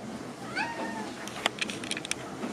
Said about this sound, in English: And the cat yelling at me.